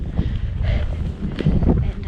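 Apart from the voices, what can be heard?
strong wind on a mountain pass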